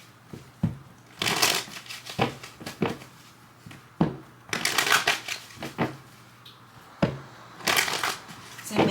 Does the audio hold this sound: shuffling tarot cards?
yes